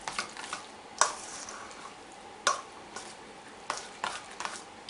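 Guacamole being stirred in a bowl, giving soft wet squishing scrapes with a few sharper clicks of the utensil against the bowl, close and alone.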